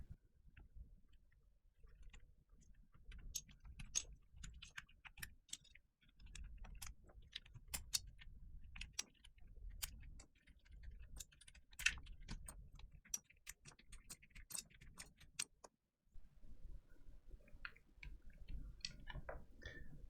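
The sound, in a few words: keycaps being pulled off Fox Lab Leaf 60 keyboard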